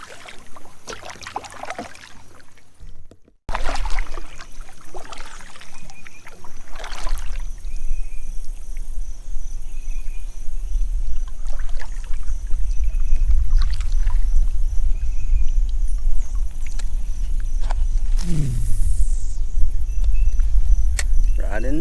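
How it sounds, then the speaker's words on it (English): Kayak paddling on a lake while out bass fishing, with steady water noise and periodic soft paddle strokes and splashes close by, plus an occasional sharper swirl of water; no talking. "Gotta do a little paddling to get there though."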